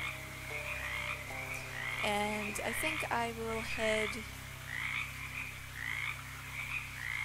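Frogs croak in the video game Shadows Over Loathing, a series of stacked, tonal ribbits bunched in the middle of the stretch over a low steady game hum, while a person talks briefly.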